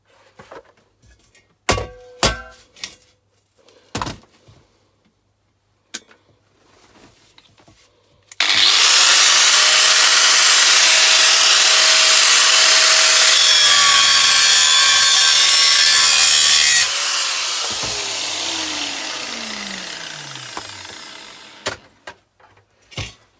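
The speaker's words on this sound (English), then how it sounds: "hit it with your angle grinder. If you get some sparks, then it's stainless steel." An angle grinder grinds a piece of scrap metal to test whether it is stainless steel. A few sharp knocks come first, then the tool spins up into a loud, steady, harsh whine that holds, drops in pitch and winds down, close and with no talking.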